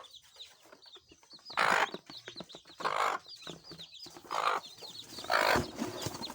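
Chicks in a brooder chirp and peep in quick, overlapping calls, with several louder bursts of cheeping standing out from the steady flock chatter close by.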